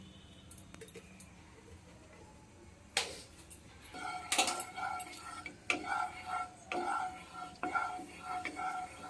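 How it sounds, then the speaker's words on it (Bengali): A kadai being set on a stove before mustard oil goes in for a village-style jujube pickle: sparse, quiet metallic taps at first, then a run of louder clanks and knocks close by. "একটা কড়াই বসিয়ে দিয়েছি কড়াইতে পরিমাণ মতন সর্ষের তেল দিয়ে দেব"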